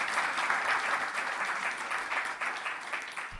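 An audience at a clean energy investment forum session applauds the speakers, with steady, moderately loud clapping that tapers slightly toward the end.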